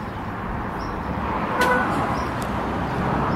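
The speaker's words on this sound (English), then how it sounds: "The horn sounded and the doors are locked." A Renault Espace IV sounds one short horn toot as its keyless entry locks the doors, heard outdoors over steady traffic and street background noise.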